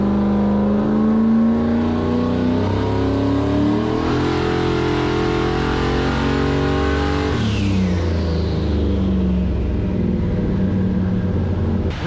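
Turbocharged LS-powered Foxbody Mustang at full throttle, running 93-octane fuel: a loud, close engine roar climbing steadily in pitch, a brief shift break, then another rising pull, with no talk.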